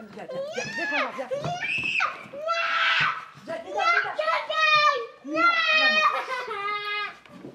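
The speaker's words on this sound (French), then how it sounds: "elle crie" A young girl screams and shrieks in loud, repeated bursts at home, her high, harmonic cries rising and falling close up across the whole stretch with only brief gaps between outbursts.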